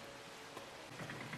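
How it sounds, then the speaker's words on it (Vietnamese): Soft, steady rainfall in the video game No One Lives Under the Lighthouse, a faint continuous patter with no voices over it. "À, đâu có tiếng mưa lại rồi."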